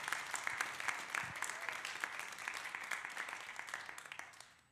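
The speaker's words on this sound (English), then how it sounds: "And one more round of applause for Ralph." A church congregation gives a round of applause during a Sunday service, an even patter of many hands with sharper individual claps popping out, fading away toward the end.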